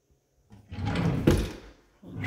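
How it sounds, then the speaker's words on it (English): A kitchen drawer or cabinet in a house sliding open and shut, one smooth rolling slide ending in a soft thud, then a second movement starting, close by and with no talking. "Drawers, cabinets."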